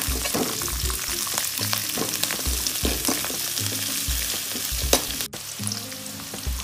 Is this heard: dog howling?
no